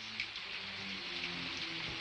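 Light rain falling outdoors, a soft continuous hiss of drops with a faint low hum underneath, steady and fairly quiet throughout.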